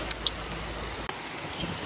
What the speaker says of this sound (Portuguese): Espera estiar, que engrossou de novo a chuva.